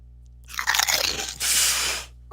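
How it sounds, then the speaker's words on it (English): A loud, close crunch of someone biting into crunchy food, one sharp bite followed by a second crackling burst, heard alone with no talking. "That crunch was a 9 out of 10 crunch."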